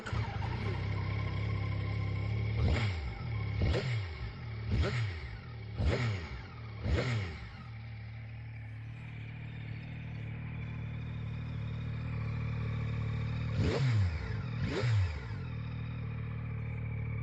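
A Yamaha XSR900GP motorcycle with an Akrapovic exhaust idles with a deep steady rumble, then blips the throttle in a quick series of sharp revs, pauses, and revs twice more.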